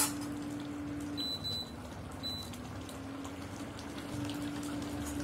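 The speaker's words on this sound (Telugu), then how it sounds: "కొన్ని నీళ్ళు వేస్తున్నాను" Water poured into a pot of drumstick kurma curry gives a steady, close gushing and trickling sound that continues for about five seconds, with a faint hum beneath it.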